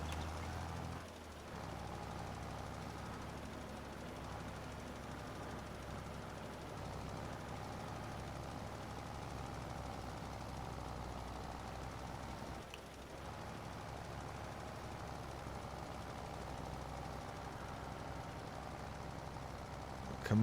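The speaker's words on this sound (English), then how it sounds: "Come on, tractor." A farm tractor engine in Farming Simulator 22 strains under a heavy load in the Tuscan hills, a steady low droning hum held continuously at a faint level with little change.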